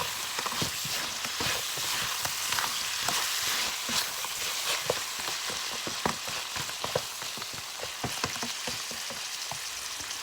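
Crab curry fries in a pan while being stirred, with a continuous hiss of sizzling broken by frequent sharp scraping clicks of the utensil throughout, close and fairly loud, with no talking.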